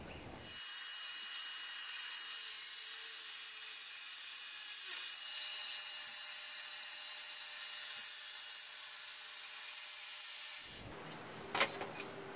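A piece of wood cut to size for a wooden toy box lid: a steady, loud, hissing power-saw cut lasting about ten seconds, then stopping with a few brief knocks.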